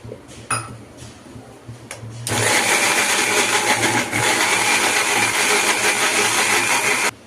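Masala ground with water in a mixer grinder, a loud steady whirring roar that starts abruptly after a few clinks and stops sharply near the end.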